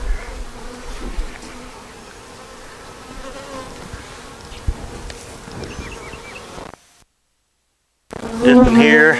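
A honey bee swarm buzzes steadily on a hive frame at close range, with a dense drone that continues under a voice and cuts out briefly before returning loudly.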